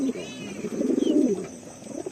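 Stock pigeons coo in a low, soft, rolling murmur at close range, building to a fuller burst mid-clip before fading, with faint chirps from other birds above.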